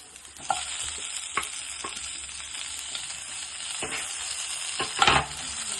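Grated coconut fries in a pan for Kerala-style cooking, giving a steady soft sizzle with occasional scraping stirs and a louder clatter of the spoon near the end.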